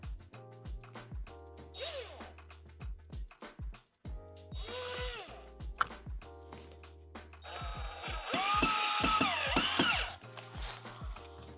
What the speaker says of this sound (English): we're putting the 3rd screw in there